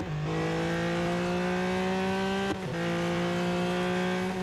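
A car braking hard on a track with two tires off the edge, heard from inside as a steady engine hum with a brief thump and shift midway, close and fairly quiet with no talk.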